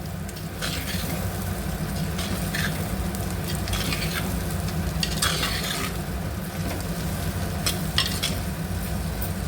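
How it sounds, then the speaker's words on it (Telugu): Bottle gourd pieces are stirred in a hot pan for a tamarind gourd stew, with a continuous close sizzle and occasional scraping strokes of a spoon against the metal. "అందులోనే సొరకాయ ముక్కలు, కలుపుకోవాలి మంచిగా."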